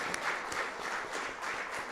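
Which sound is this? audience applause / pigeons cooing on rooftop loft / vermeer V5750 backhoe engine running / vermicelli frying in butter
audience applause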